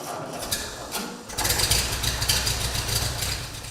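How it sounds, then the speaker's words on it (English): A 1942 Ford 9N or 2N farm tractor engine runs at idle, a steady low mechanical chugging that swells louder after a brief quieter start and holds a continuous rumble with light rattle. "I have a 1942, as best we can tell, Ford 9N or possibly a 2N tractor."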